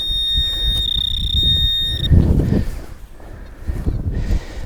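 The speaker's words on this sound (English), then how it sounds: "Check the boring alarm on the camera. Hasn't switched itself off." A camera alarm emits a continuous high-pitched electronic tone for about two seconds during outdoor metal detecting, clear over rustling and wind noise before cutting off.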